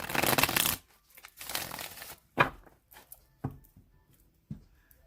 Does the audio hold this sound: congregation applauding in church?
no